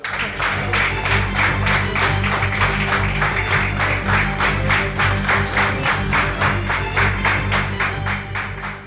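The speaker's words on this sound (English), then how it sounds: "Big round of applause for all of them." Rhythmic group clapping for geography bee winners at a stage event, fairly close and steady, beating in a regular pulse over a low background hum.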